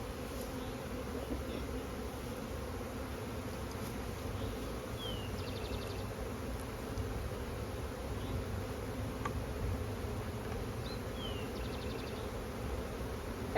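A large honey bee swarm, around five or six pounds, hums in a steady, dense drone close by after being dumped from a box into an open hive space, with no voices.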